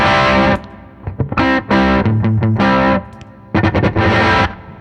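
An electric guitar through a Belle Epoch Deluxe echo pedal driven for overdrive, loud gritty distorted chords and notes played in bursts with short gaps and trailing repeats.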